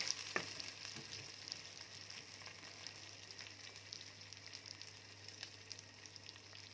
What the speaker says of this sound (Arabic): اشوحه عندي لغايه ما كل رزه تتغلف